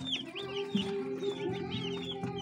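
Young broiler chickens in a brooding setup cluck and chirp repeatedly, several birds overlapping in a busy, close, moderately quiet chorus with no talk.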